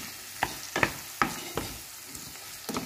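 Food with salt and ground black pepper frying in a pan, a low steady sizzle punctuated by about six sharp clinks and scrapes of a utensil stirring against the pan, no voices.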